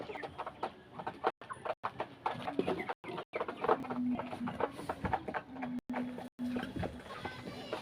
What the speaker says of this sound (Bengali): এই তো মুরগিগুলার বিকালের খাবার